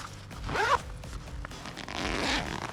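A zipper on a pocket of a Helikon Bushcraft Haversack is pulled in one quick, close rasping stroke, followed by quieter fabric handling and a second longer, softer zip.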